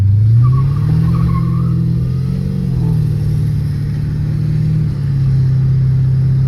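A 1997 Mercury Cougar XR-7 with a V8 and 153k miles drives along, its steady low engine drone rising and dipping as it moves smoothly through the gears, loud and close with no talking.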